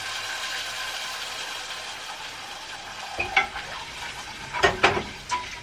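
Boiling water from a kettle is poured into a pan of quinoa and stirred, giving a steady hissing sizzle followed by louder scraping, stirring clatters near the end.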